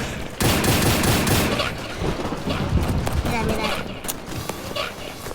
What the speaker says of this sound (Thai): เพื่อนมีปืนใหม่ ลองยิงอย่างนี้สิ